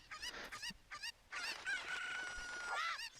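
A rooster crows in a video game, a loud, clear drawn-out cock-a-doodle-doo rising and falling, preceded by a few short clucking calls.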